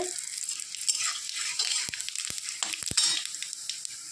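Bay leaves and cumin seeds crackle and hiss in hot oil, a steady sizzle broken by a few sharp utensil taps against the pan.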